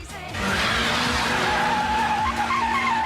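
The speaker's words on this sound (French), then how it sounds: "Quand j'entends le bruit aigu du pot d'échappement de la 86 aujourd'hui" A Toyota AE86 revs hard with a high-pitched exhaust wail, loud and close, rising in after a brief quiet start and holding a strained, over-revving tone amid tire noise.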